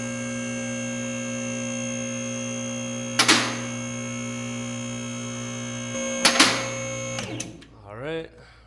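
A vehicle lift raises a 1990 GMC Sierra with a steady, loud electric motor hum that is broken by two sharp clunks. The motor then stops and a voice is heard briefly at the end.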